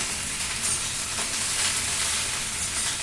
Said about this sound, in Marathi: भाजून घेते हिरवी मिरची भेंडी चांगली छान भाजून घ्यायची